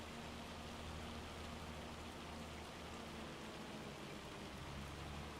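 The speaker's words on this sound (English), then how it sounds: "get this goddamn hail out of here" Hail falling in a farming game, a dense, steady hiss of pelting ice that sounds much like heavy rain, constant and soft throughout with no voices.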